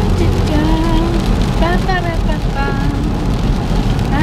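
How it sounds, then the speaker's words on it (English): Rain falls steadily, a constant hissing patter with a low rumble underneath, while voices talk over it. "It is raining."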